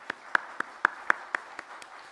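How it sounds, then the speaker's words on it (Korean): Sparse, separate hand claps from a church congregation during a Wednesday service, about eight distinct claps over two seconds, fairly faint and slightly echoey. "우리 한번 감사의 박수 한번 하도록 하겠습니다"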